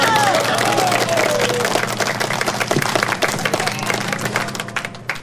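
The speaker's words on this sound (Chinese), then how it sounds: "掌声嘞！" A Taiwanese political talk-show studio audience breaks into applause, a dense burst of many hands clapping with crowd murmur, strongest at first and thinning toward the end.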